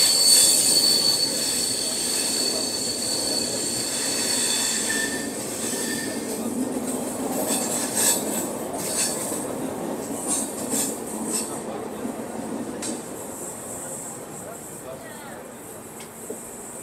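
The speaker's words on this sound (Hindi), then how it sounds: "तो अभी हम लोगों की ट्रेन स्किप कर रही है गोधरा जंक्शन रेलवे स्टेशन" Duronto Express train running through Godhra Junction, with steady rolling rumble and high wheel squeal under faint clicks, heard from inside a 3rd AC economy coach, close and continuous.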